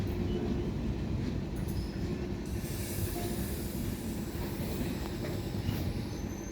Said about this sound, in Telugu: ఇదిగోండి ట్రైన్ ఇక్కడ ఆగిపోయింది